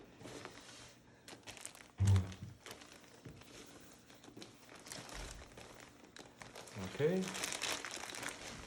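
Crinkling and crumpling of packaging as a taped-up parcel holding an Amazon orthopedic dog bed is opened, with a short thump near the start and a louder rustling burst later, under occasional talk.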